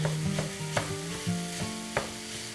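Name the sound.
ground lamb frying with onions, broken up with spoon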